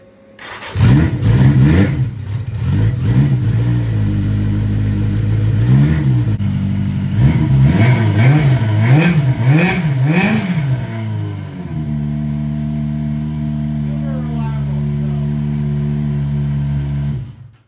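A motorcycle engine starts and is revved hard several times, each rise and fall close and loud, then it settles into a steady idle for several seconds, with no speech.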